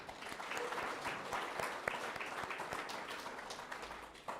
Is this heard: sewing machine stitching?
no